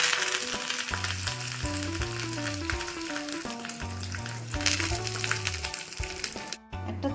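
Black mustard seeds, green chilies and curry leaves sizzle in white oil, a dense, steady crackle close by, while a loud melodic background tune plays throughout.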